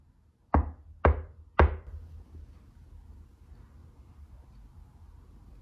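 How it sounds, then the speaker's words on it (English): Three heavy, solid knocks at a steady half-second spacing sound in a quiet room, each thudding with a deep resonance and leaving a short decaying boom before near silence returns. "That's a solid knock."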